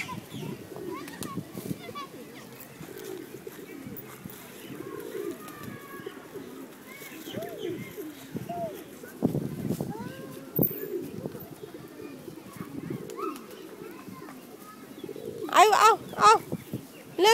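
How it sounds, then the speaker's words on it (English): Pigeons coo in soft, repeated low calls close by, mixed with occasional chirps, while people and someone talk and shout over them. A sharper burst of noise comes near the end. "More birds, pigeon. These are pigeons."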